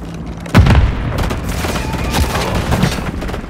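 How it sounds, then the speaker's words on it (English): A Semtex grenade going off in Call of Duty: one sharp, loud blast with a rumbling tail, followed by softer scattered gunfire pops in the background. "Tossing Semtex!"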